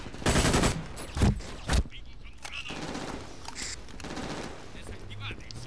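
Automatic gunfire in the shooter game Brink, with a loud opening burst and a couple of sharp follow-up volleys, then quieter distant shots and a voice talking over the rest.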